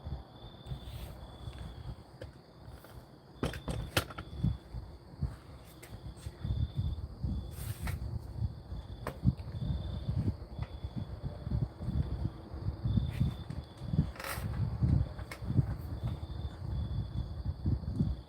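Real crickets chirp steadily outdoors at night, a continuous high trilling under scattered low rumbles, knocks and background noise, with no one speaking.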